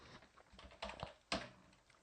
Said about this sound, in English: So let's begin typing.